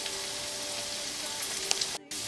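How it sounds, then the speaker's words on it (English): A pot of salted water for pasta comes to a boil, giving off a constant soft bubbling hiss with a few small pops and a short drop-out near the end. "Now the water for the pastas come up to a boil."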